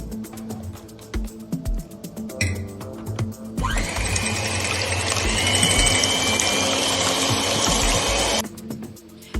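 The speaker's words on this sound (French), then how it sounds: "dans un saladier, on verse les blancs d'œufs et on fait monter avec le robot jusqu'à l'obtention d'un mélange bien ferme" Stand mixer whipping egg whites in a bowl until stiff, a steady loud motor whir with rattling that starts abruptly and runs about five seconds before cutting off, with clinks and handling noises before it.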